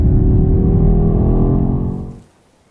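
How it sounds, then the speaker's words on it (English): BMW X6 M, a 625 hp SUV, gives a loud, steady engine roar for about two seconds before it cuts away to near silence. "A fast car should sound fast, and the X6M definitely sounds fast."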